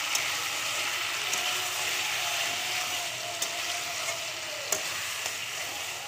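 Tomatoes fry with spices in a pan, giving a continuous close sizzle with a few sharp clicks from a utensil scattered through it, and no one speaking.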